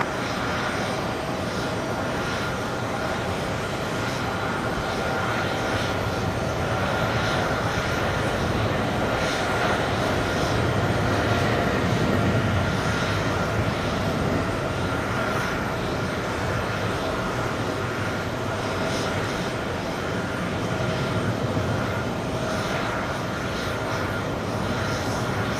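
A British Airways jet, Speedbird 176 bound for Heathrow, takes off at JFK with a loud, continuous engine roar that swells and holds for the whole stretch, heard from nearby on the airport grounds.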